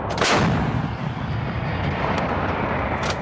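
A U.S. Marine M777 towed 155mm howitzer fires during a live-fire exercise, one loud booming blast followed by a long rumbling roar and echo that fill the whole moment, with no voices heard.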